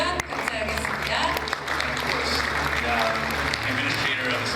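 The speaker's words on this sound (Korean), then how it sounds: "여러분 큰 박수로 환영해 주시면 감사하겠습니다." A conference audience claps to welcome a keynote speaker, the US Small Business Administrator, onto the stage at a world Korean business convention in Atlanta; steady, dense applause fills the hall under a tonal music bed with a voice over it.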